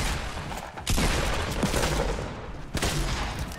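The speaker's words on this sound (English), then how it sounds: "I missed my first shotgun shot, but I got a nice, sick, nasty shot with that nice sniper rifle" Shotgun and sniper rifle fire in Fortnite, loud and close, with sharp blasts near the start and again later amid a dense crackle of continuous gunfire.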